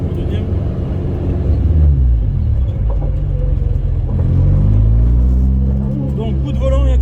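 A Toyota AE86 engine drones loudly from inside the car as it accelerates during a drift lesson. A steady low rumble rises and shifts in pitch while people talk over it.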